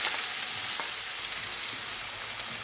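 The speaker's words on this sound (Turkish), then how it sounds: "Evet kızgın yağımıza biberlerimizi atıyoruz." Peppers sizzle and crackle steadily in hot oil, a dense, hissing fry close up, with an occasional faint stir or clink.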